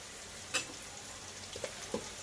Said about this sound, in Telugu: కాగిన తర్వాత సన్నగా తరిగిన ఉల్లిపాయలు, చీలికలు చేసుకున్న పచ్చిమిర్చి వేసి వేగనిద్దాం